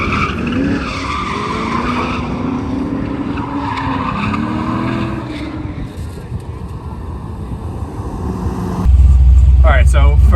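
A Cadillac CTS-V drifts at a drift event, its tires squealing in long, wavering wails over a roaring engine, loud and continuous, with a sudden louder close-up engine blast at the end.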